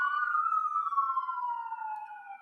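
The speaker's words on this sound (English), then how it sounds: "Sorry about the sirens." A wailing siren sweeps steadily downward in pitch, loud and continuous with clear overtones, sounding like a police car passing close by.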